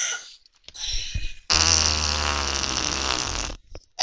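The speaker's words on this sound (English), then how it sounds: "You farting for?" A loud, sustained fart sounds for about two seconds, rumbling low and steady, set between stretches of softer noise during a Portal 2 co-op play session.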